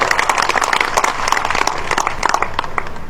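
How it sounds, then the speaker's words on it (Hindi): Loud, dense applause from the crowd at a BJP Kamera Varg Sammelan gathering in Safidon, a fast continuous patter of many hands that stays at a steady level for the whole stretch, with no talk over it. "जोरदार ताली है बलवंत जी के नाम के ऊपर"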